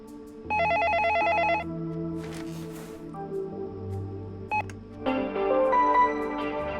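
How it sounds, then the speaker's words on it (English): In the video game Interference: Dead Air, a telephone rings in a couple of bursts among electronic beeps and tones, fairly faint and clear, with no one speaking. "The phone should ring after you request the code from the computer"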